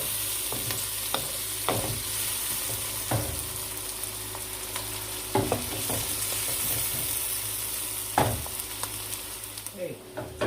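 Chopped onion fries in a pan for fried rice, a steady sizzle throughout with occasional louder scrapes and stirs of the utensil against the pan.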